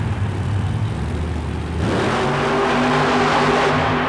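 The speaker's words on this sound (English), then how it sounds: "Dave Ray's identical four-wheel drive Ranger must do the trick with one of its quickest runs ever." Supercharged Ford Ranger four-wheel drive super modified mud racing truck, Centrum, Worcester MA, 1991, roars loud and steady through a hard run, engine note climbing under a wide crowd-filled arena wash.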